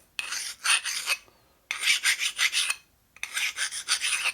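A hand file rasps across a custom metal bracket to deburr its edges, in three bursts of quick rhythmic scraping strokes separated by short pauses, close and clear with no talking.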